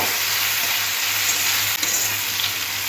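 Half-boiled potatoes fry in hot oil in a pan with a constant close sizzle, broken by a few stirring scrapes and knocks; no talking.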